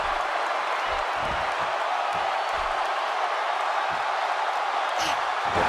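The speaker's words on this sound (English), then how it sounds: "You can hear this crowd." Steady roar of a large wrestling crowd cheering and shouting in the video game WWE 2K17, continuous and loud, with occasional thumps and louder surges.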